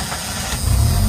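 A Jeep XJ engine runs rough inside the hot cabin, a steady low mechanical drone that swells louder and more uneven partway through, with no talking.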